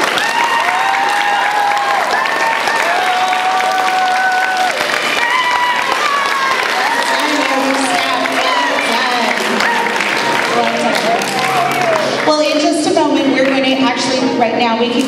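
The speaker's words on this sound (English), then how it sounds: "So let's just give them one more round of applause." An audience at a school yearbook presentation applauds the yearbook staff amid crowd noise, with voices and chatter mixed through the clapping.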